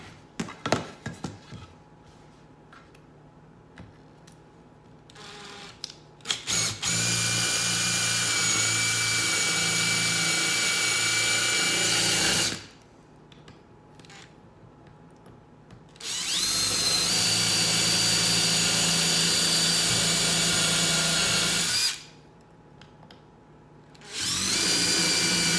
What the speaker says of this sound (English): Okay, we're going to do a pre-drill.